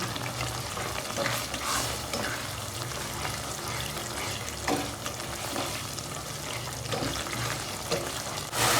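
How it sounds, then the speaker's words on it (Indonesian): Chilies sizzle and crackle steadily in a pan, with occasional scraping stirs and brief splashy bursts; no one speaks. "Ini kita tumis terus sampai airnya menyusut dan cabenya matang."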